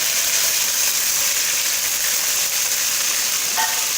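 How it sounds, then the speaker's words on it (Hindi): Medium chopped onion frying in hot ghee, a steady bright sizzling hiss that runs continuously and close, with a brief stir near the end. "घी हमारा गर्म हो चुका है तो हम इसमें अभी प्याज ऐड करेंगे"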